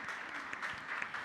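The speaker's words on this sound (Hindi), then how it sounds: "जोरदार तालियों के साथ इनका स्वागत किया जाए" An audience at an International Women's Day celebration on a business-school campus claps to welcome a guest, an IAS officer from Lucknow, with a brief, steady patter of applause from a moderately sized crowd.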